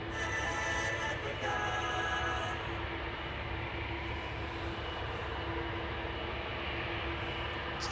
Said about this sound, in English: KLM Flight 565. That's a 777-200 to Nairobi in Kenya.